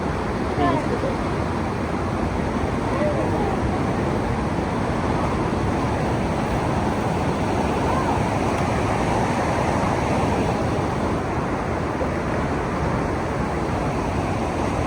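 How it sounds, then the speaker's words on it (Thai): A waterfall gives a continuous, dense roar of rushing water at a steady, fairly loud level throughout. No other sounds or voices stand out. "บนน้ำตกพี่น้องเลย"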